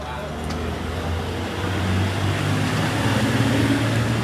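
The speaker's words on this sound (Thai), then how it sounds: "เสียงแบบเสียงรถยนต์อาจจะเสียงดังนิดนึงนะคะ ทุกคนเพราะว่าร้านอยู่ติดริมถนนเนาะ" Continuous car traffic rumbles past a roadside street food shop in Bangkok, a steady low wash of engines and tyres that swells slightly louder midway, with no clear voices on top.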